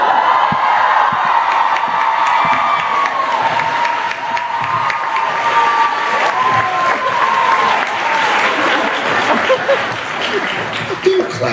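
Loud crowd applause mixed with cheering and whoops fills the room, with voices shouting over the clapping throughout.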